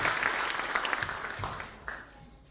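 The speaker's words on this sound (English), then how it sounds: "And our fantastic brass section, those huge round of applause." A crowd applauds a jazz orchestra's brass section at a showcase concert, a full wash of clapping that holds steady and then begins to thin and fade toward the end.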